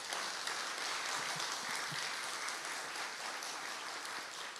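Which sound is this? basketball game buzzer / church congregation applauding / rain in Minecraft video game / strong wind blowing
church congregation applauding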